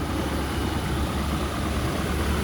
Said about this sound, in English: there's your 260 cubic inch small block Ford engine